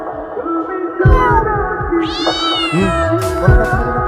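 Human voices imitate a cat's meow several times in a row, loud and close, with drawn-out wavering cries that sound fairly catlike.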